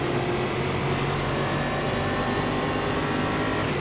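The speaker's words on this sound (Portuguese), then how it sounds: "Tem um carro aqui tentando me passar." A Red Bull stock car engine drones at a steady high pitch in Automobilista at Cascavel, loud and close. Another car's engine blends into the sound, with no clear rise or fall.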